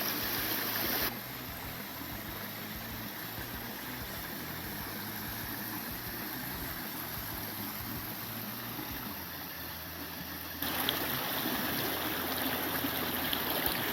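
Water in Curry Creek along the Appalachian Trail in Virginia flows steadily as a constant broadband rush, close and even, with no voices, louder at the start and end.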